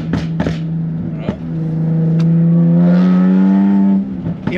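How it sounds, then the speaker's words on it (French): A car's V6 engine revs hard to high rpm, a rising tonal roar that swells and holds for a few seconds before dropping off, preceded by a couple of short blips. "Il y a le bruit du V6"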